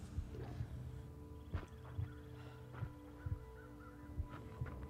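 Crows cawing in the wintry survival game The Long Dark, several short harsh calls spread across the scene at moderate distance over a steady low ambient rumble and faint thumping.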